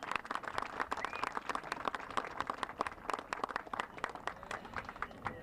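Sparse, scattered clapping from an outdoor audience at a Jones Beach air show preview event, faint and distant, with individual claps audible rather than a full roar.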